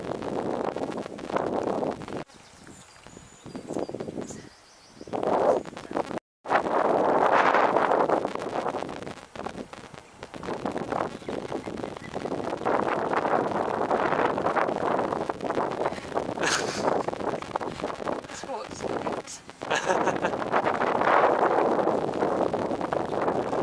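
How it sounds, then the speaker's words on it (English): Steady wind buffeting a microphone outdoors on a hilltop overlooking a bay, a continuous broad rumble with gusts rising and falling, briefly dropping out before picking up again. "it's very windy out here"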